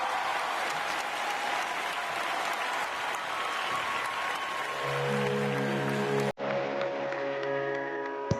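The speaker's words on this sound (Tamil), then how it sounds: "அவர்களை நல்ல கைத்தட்டுடன் வரவேற்கிறோம்" A studio audience at a singing show gives a contestant in costume a welcoming round of applause. Brisk clapping fills the first five seconds, then gives way to sustained musical tones, a brief cut and a quieter tonal passage.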